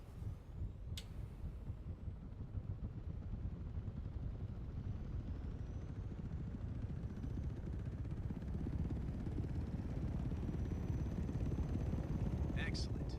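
Helicopter engine running in Microsoft Flight Simulator, a steady dense whir and rotor thrum that holds evenly throughout, with a couple of brief clicks at the start and end.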